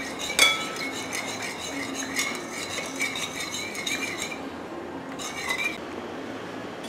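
Seasoning and dried herbs such as thyme being mixed in a bowl for oven-roasted chicken, with steady scraping and clinking of a utensil against the bowl and a sharp clink near the start.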